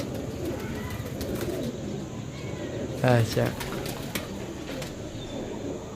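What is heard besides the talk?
pigeons cooing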